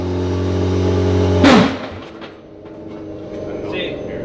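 A car engine idles with a steady, harmonic hum, then gets too much gas at a race start: a sharp, loud surge that quickly cuts away into a quieter, rougher rumble.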